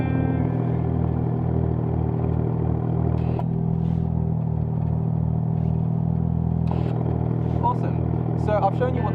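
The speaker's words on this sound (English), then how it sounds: "I've shown you what the car sounds like with the valves open and closed" BMW 335i N54 with a valvetronic exhaust and VRSF downpipes, valves open, giving a loud, close, continuous throaty drone with a couple of rev blips and some clatter across about nine seconds.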